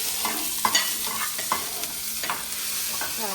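Surmai fish curry with tomato and green masala cooking in a pan, giving a steady close sizzle with repeated scraping stirs and no voices.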